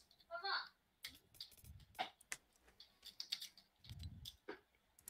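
Typing on a computer keyboard: quick irregular clicks and taps, close and fairly quiet, with pauses between short bursts and faint talking around them.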